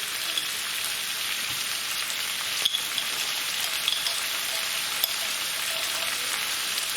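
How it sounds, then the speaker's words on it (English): Garlic and ginger paste frying in a curry pan for a British Indian restaurant-style lamb and chicken balti, giving a steady, moderately loud hiss and crackle that holds evenly throughout, with a few faint clicks and no talking. "So we're going to want to put in our garlic and ginger paste now."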